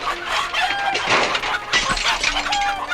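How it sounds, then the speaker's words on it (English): Chickens cluck and scatter amid a crashing, shattering jumble as a cartoon train smashes through a farm barn; busy, cluttered bursts of breaking debris and fowl squawks fill the whole moment without talk. "chickens began to scatter everywhere"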